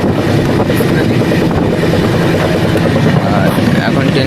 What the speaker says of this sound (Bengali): ট্রেনের আওয়াজ যা আসছে, নয়েজ খুব আসছে